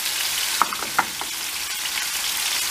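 Meat for saç kavurma, seasoned with chilli flakes, red pepper and salt, frying in a pan. A steady bright hiss runs throughout, with a couple of sharp knocks of stirring early on.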